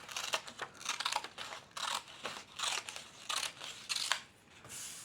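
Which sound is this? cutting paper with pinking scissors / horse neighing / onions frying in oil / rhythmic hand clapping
cutting paper with pinking scissors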